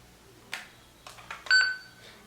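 An Alexa smart speaker gives a short electronic beep, heard as a faint chime with a bright tone near the end. A few quiet clicks and taps come before it in an otherwise quiet room.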